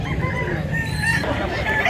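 Chickens on a farm in Mantalungon, Cebu cluck steadily while a rooster crows close by, a dense, continuous barnyard chorus throughout.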